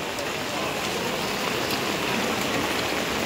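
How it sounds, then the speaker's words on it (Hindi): Heavy monsoon rain pours steadily in Deoghar during the Sawan season, a dense continuous hiss mixed with the rush of running water, loud and unbroken throughout. "यहाँ पे काफ़ी ज़्यादा बारिश हो रहा है, तो काफ़ी ज़्यादा यहाँ पे पानी भी बह रहा है।"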